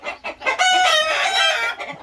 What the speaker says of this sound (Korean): 지금 닭밥을 줬더니 닭들이 난리가 났습니다.